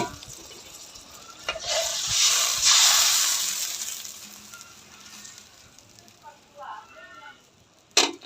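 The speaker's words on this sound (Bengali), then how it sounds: "এবার আমি মাছগুলা দিয়ে দিব" Fried katla fish pieces dropped into a hot pan of do pyaza onion masala, setting off a loud burst of sizzling that slowly fades, with a few stirring scrapes afterward.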